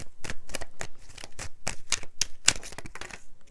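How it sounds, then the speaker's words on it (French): An oracle card is pulled from a deck, making a quick run of crisp, papery flicks and taps close up. "je vais vous tirer une petite carte de lâcher prise."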